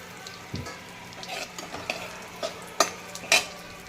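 Cumin seeds and asafoetida crackle and sizzle in hot oil for a fish curry, with a steady frying hiss broken by a few sharp pops and light utensil clinks near the pan.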